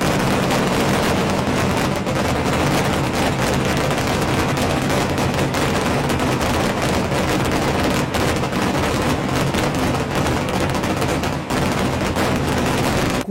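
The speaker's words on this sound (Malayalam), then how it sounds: "കൂട്ടപ്പൊരിച്ചിലിൽ തുടങ്ങി അമിട്ടുകളിലെത്തിയ വെടിക്കെട്ട് കാണാൻ ആയിരങ്ങളാണ് പൂരനഗരിയിൽ എത്തിയത്" A temple festival fireworks display, starting with a rapid mass-firing volley and moving on to aerial shells, pours out a dense, unbroken roar of crackling and booming blasts, loud and steady with no voices.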